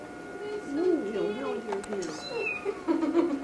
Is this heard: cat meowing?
yes